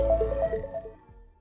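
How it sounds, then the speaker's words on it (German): Telephone ringtone, a short electronic melodic ring of several quick tones that fade away, heard close and alone. "Ah ja, das Telefon klingelt"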